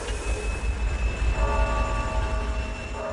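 A Siberian train rolling along the rails with a deep rumble and a thin metallic squeal, steady and close throughout.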